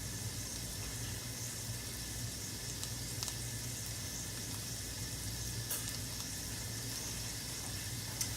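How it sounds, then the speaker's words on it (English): Chicken chunks fry in a pan for shrimp fried rice, giving a steady, soft sizzle and crackle throughout with a constant low hum underneath and no voices. "I have chicken chunks over here frying."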